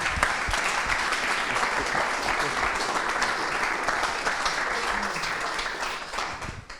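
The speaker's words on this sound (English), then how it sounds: "I think he deserves another applause" An audience at a DPDK tech meetup applauds, a dense, steady burst of many hands clapping that carries on for several seconds before tapering off at the end.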